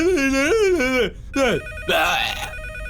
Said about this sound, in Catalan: Oh, el telèfon, senyor!